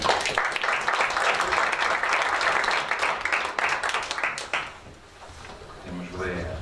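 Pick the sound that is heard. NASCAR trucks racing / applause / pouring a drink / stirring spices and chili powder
applause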